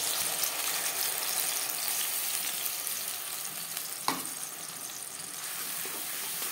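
Tomato paste frying in hot oil in a wok gives a steady, close sizzle throughout, with one brief scrape of a utensil in the pan.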